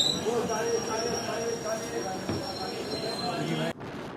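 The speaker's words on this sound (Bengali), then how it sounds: "আমাদের ট্রেন এখন 110 স্পিডে ক্রসিং করছে ডাহাপাড়া ধাম রেলওয়ে স্টেশন" The Azimganj–Howrah passenger train runs at speed at night past a station, with a steady loud rumble, a high wheel whine and clatter from inside the coach, then a sudden drop in level near the end.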